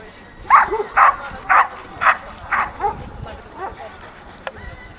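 A Croatian Shepherd dog barks about eight times in a steady series of sharp, loud barks at a rally obedience competition, with the later barks fading and quieter, while a voice talks faintly in the background.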